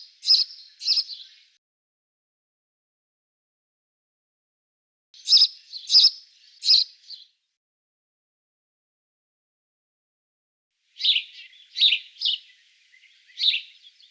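Starlings sing in three separate bursts of bright, chirping notes, fairly close and clean, with long silent pauses between the phrases.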